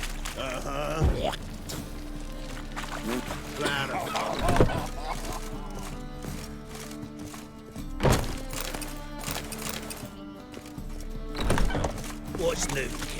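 Horse hooves clip-clop with heavy thunks in The Witcher 3, recurring in loud bursts over continuous talk and game background sound.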